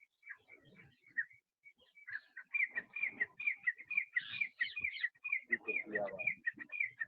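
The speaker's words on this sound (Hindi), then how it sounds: "देखिए पक्षियों की आवाज सुने, बड़ा आनंद आएगा आप लोगों को भी" Birds chirping outdoors at an open-air yoga class setting, repeated bright high calls and twitters in steady succession, with a voice talking softly underneath.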